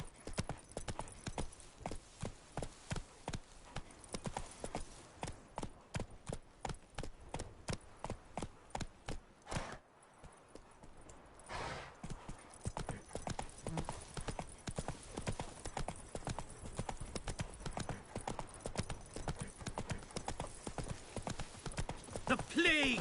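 A horse's hooves clip-clop in The Witcher 3, a fast, even trot of crisp knocks that pauses briefly midway and then resumes at a steady gait, close and distinct.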